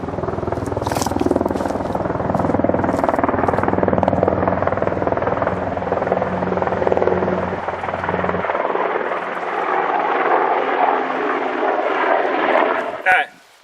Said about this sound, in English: The helicopter's pretty cool.